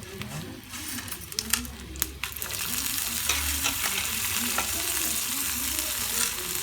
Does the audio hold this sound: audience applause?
no